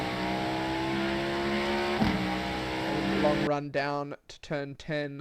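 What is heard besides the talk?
Cadillac GTP race car engine at full throttle, iRacing video game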